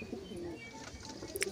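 Pigeons, including a Kalsira golden variety, cooing softly in a short, quiet stretch with faint chirps and low background murmur.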